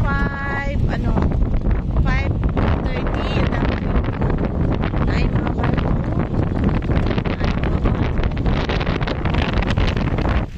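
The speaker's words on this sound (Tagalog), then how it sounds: "Dunggan ninyo ang hangin." Steady, loud wind buffeting the microphone throughout, a continuous rushing roar with rustling underneath, in the Dolomites mountains.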